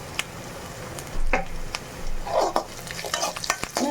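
Onions sauté in oil in a pan for a Sankara fish kulambu, a crackling sizzle broken by scraping stirs and clanks of a spoon against the pan, close and without talking.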